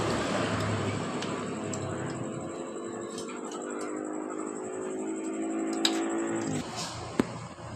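A Honda Astrea motorcycle engine runs rough when throttled, a buzzing four-stroke drone with steady harmonics and a high whine, punctuated by occasional ticks and clacks before the revs drop near the end.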